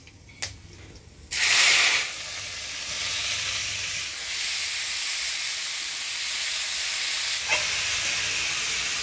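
Vegetable dropped into hot oil tempered with dried chili and nigella bursts into a loud hiss after a brief clatter, then settles into a steady sizzle that lasts for several seconds.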